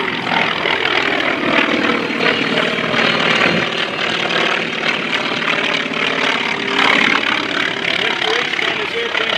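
A Grumman FM-2 Wildcat propeller fighter flies at the 2025 Westmoreland County International Airshow, its engine a steady, loud drone throughout, with a voice talking over it much of the time.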